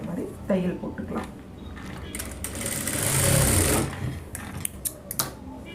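A sewing machine stitches saree blouse lining in one sustained, close whirring run lasting a couple of seconds, with someone talking before and after it.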